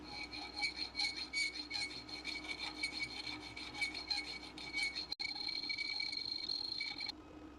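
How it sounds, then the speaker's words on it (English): A round file works steadily in a hole in a stainless steel knife blade, making a continuous rhythmic rasping scrape that is close and even, then stops abruptly near the end. "Refining the hole to smooth out the crappy machining. Starting out with a round file"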